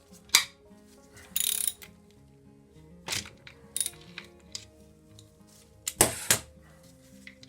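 A ratchet with a socket adapter works on a fastener during a Honda VF750F motorcycle engine teardown, giving a few sparse, sharp clicks and short ratcheting bursts close by over a quiet background.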